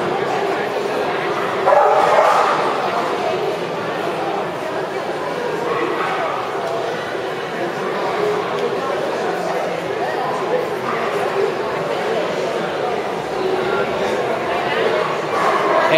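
A Cavalier King Charles spaniel barks and yips at a CAC dog show in Faenza, with crowd murmur and voices talking throughout.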